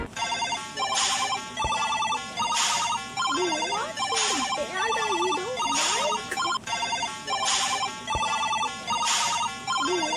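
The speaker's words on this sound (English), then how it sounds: "The sound of a Numberblock 1." Sound effect for Numberblock One from a children's cartoon: a bright, repeating electronic ringtone-like jingle in regular bursts with swooping tonal glides between them, loud and close.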